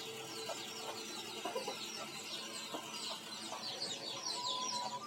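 Quiet, scattered clucks and soft calls come from chickens kept under a constantly running fan on a home farm, faint and overlapping against a steady background hum.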